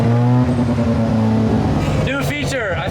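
Old project car engine burbling and revving while cruising a two-lane road, heard from inside with a steady low drone, then a sharp rise and fall of revs near the end, loud and close.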